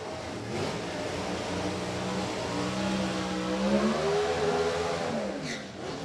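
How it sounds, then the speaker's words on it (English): A 2015 Camaro drag car with a 342 cubic inch bow tie engine and automatic transmission revs at Thunder Valley Motorsports Park during NHRA drag racing, a steady loud engine drone with rising and falling pitch sweeps over crowd ambience. "2015 Camaro, 342 cubic inch bow tie power plant for Dwayne out of Gardner, Kansas."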